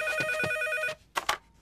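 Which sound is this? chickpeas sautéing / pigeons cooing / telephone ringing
telephone ringing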